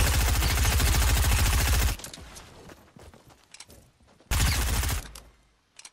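Rapid automatic gunfire in Fortnite, a long dense burst of shots, then a quieter stretch of scattered distant shots and clatter, then a second loud close burst.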